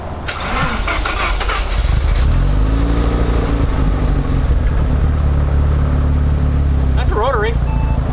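A Japanese rotary-engine car runs close by, its steady engine drone filling the scene while people talk over it.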